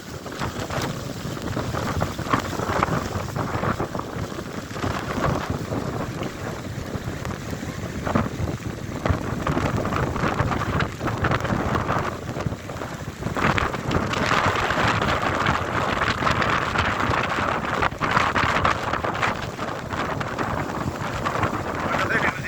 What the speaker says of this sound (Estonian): Igatahes siit selline see torm nüüd on.